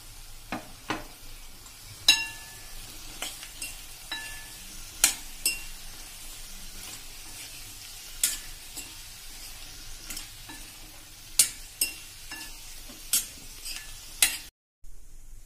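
Steady frying sizzle of chopped bottle gourd, eggplant, carrot and chillies for sambar, with repeated sharp clinks and scrapes of a utensil stirring them in a pot, no voices.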